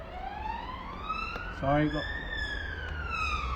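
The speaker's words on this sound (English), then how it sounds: "police or ambulance going past" A police car or ambulance siren passes with a wailing tone that rises and sweeps past at moderate distance, heard beneath people talking while dough is shaped by hand.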